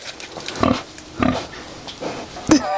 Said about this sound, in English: It's a girl pig, Marzell.